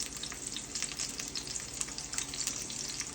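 A steak sears in a frying pan with a continuous crackling sizzle, dense and close, with small pops and spits scattered through it, no voices over it.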